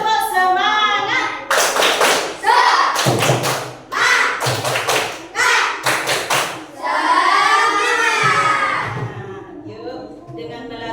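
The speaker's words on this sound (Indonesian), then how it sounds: "Coba tepuk semangatnya lagi. Tepuk semangat." Children in an Indonesian classroom clap out a patterned spirit cheer, bursts of sharp synchronized claps alternating with short chanted shouts and a teacher's voice leading between them.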